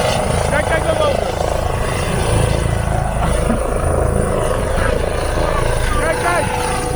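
A helicopter lifts off and departs in the mountain valley of Vall de Nuria, its loud steady rotor thud and engine whine filling the scene while people talk excitedly nearby.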